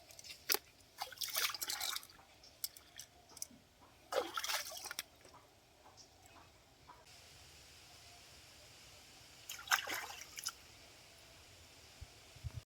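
Crab and fish pieces washed by hand in water, heard as faint, intermittent splashes and trickles in a few short bursts over a quiet hiss, with no talk.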